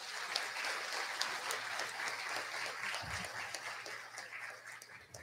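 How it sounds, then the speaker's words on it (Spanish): Audience applause at a morning graduation ceremony rings out as a sustained, fairly distant wash of clapping, even and continuous, with a brief low thump partway through. "Para ellos pido de parte de ustedes un aplauso de gratitud."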